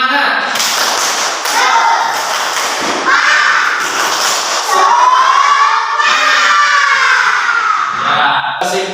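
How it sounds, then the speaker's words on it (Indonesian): An elementary school class does a rhythmic spirit clap, with bursts of hand claps and thumps mixed with loud children's shouting and chanting filling the room. "Tepuk semangat"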